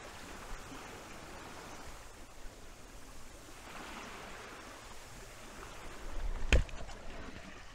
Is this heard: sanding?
no